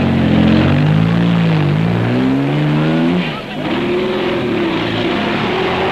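Race cars rev and pull away one after another from the start line of the first Mexican 1000 (Baja 1000) road race, engines rising and falling in pitch, loud and close, with a brief lull midway.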